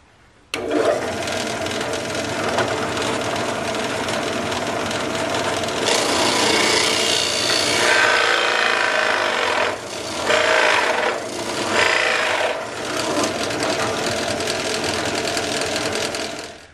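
A dull Forstner bit boring 2 1/8 inch holes into wood for a bourbon display, a loud continuous grinding rasp under the drill's motor hum, steady throughout with brief dips and surges as the cut bites.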